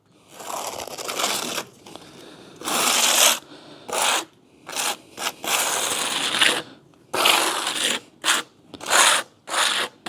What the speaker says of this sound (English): just get yourself one of these for scraping your slurry